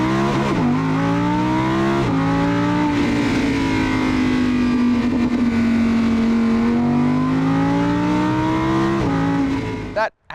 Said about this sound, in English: That Atmo V10 sounds truly operatic.